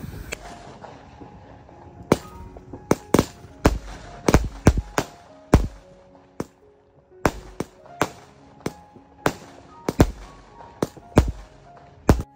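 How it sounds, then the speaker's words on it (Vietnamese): Firecrackers go off during a Qingming grave visit: a long, irregular string of sharp, loud bangs, some in quick clusters and others spaced apart, cracking close by over a quiet background. "Pháo."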